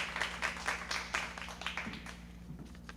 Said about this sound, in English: If we could give all of our students a great round of applause.